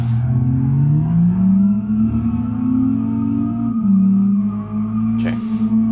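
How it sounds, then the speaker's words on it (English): Racing car engines in the BeamNG.drive game drone loudly and continuously, pitch sliding up and down as they rev, with a brief sharp burst of noise near the end. "You can probably barely hear me over the other cars."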